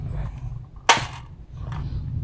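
A Nerf toy gun fires one sharp, close snap, loud and brief, against a quiet room hum. Faint handling noise follows.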